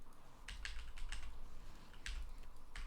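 Computer keyboard typing during a live game stream, bursts of quick clicking keystrokes in short clusters with pauses between, fairly close and alone with no talk.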